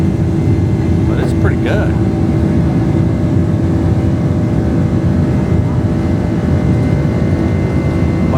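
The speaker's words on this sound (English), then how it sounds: "Boeing 767 has some darn pickup, let me tell you. Holy cow, this thing can take off." A Boeing 767 airliner takes off with its engines at full power, a loud, constant roar heard on board from the cabin while someone talks over it briefly.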